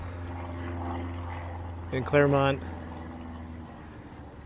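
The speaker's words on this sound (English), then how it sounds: "Like I mentioned about airplane noise" A steady low drone of a propeller airplane passing overhead in San Diego, continuing under a person talking nearby.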